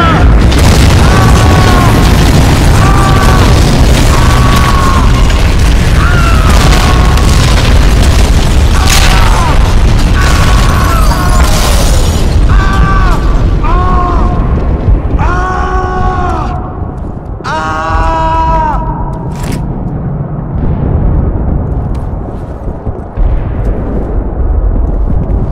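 Heavy explosions from Stuka bombing in the video game Enemy Front boom loud and continuous, with repeated rising wails and siren-like tones over the rumble, fading to a lower roar near the end.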